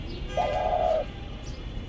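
A single soft, drawn-out Eurasian collared dove coo sounds close by against a quiet, steady background hiss.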